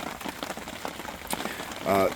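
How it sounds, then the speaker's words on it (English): Steady rain falls outside at a campsite, a dense, even patter of drops on surfaces running through the whole stretch, with a brief louder tonal sound near the end. "All this rain we're getting right now is going to be turned into biomass."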